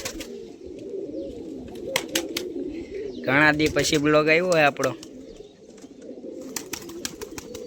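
A kabaro pigeon coos in low repeated burbles close by while someone talks over the middle stretch, with sharp clicks and rustles scattered throughout.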